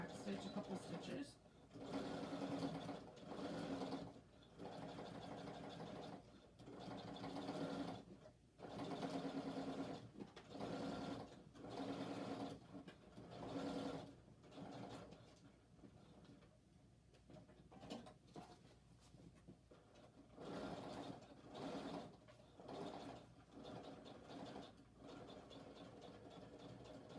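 A sewing machine stitches a seam on a criss cross shoulder bag at a quarter-inch allowance, running in steady bursts with brief pauses and backstitching, close and fairly loud while a person talks over it.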